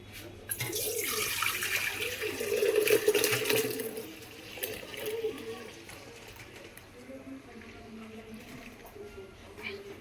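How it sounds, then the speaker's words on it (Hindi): Boiled milk is poured from a pot into a jug in a close, gushing stream for a few seconds that then tapers to a quieter trickle, with faint household sounds behind. "तो इस दूध को पलट दूँगी जग में"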